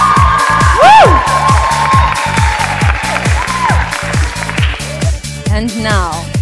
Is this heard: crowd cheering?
yes